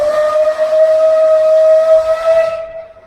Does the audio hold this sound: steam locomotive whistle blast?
yes